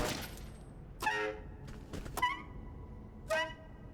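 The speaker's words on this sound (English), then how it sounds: "instead of the normal empty weapon click, you get the sound of a broken sax instead" An empty Smooth Tube gun in Mafia 2 gives off broken, honking saxophone-like blurts, three or four short bursts spread over a few seconds at moderate volume.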